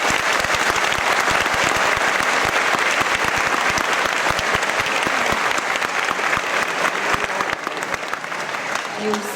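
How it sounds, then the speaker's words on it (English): An audience in a hall claps steadily at a school event in Limerick, a dense, loud wash of hand claps with no cheering or whistling that holds for several seconds before thinning slightly. "This time we're going to do clean clapping, no cheering, no whistling, just clapping, okay?"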